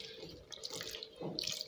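Water poured into a cooking pot of mixed vegetables on the stove, a short, close splashing pour that swells near the end, with no talk.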